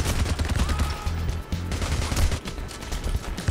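Rapid Glock 18 machine-pistol fire in the heist shooter Payday The Heist, a steady rattling stream of close, loud shots running almost continuously through the stretch with brief gaps, heard alone.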